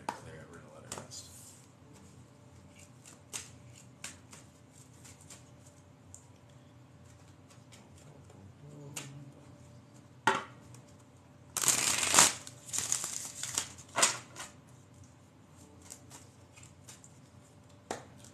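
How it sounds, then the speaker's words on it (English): Tarot card deck being shuffled and cut, a short burst of riffling cards standing out among soft scattered taps and handling noises in a quiet room. "We're gonna cut the deck. We're gonna clear it."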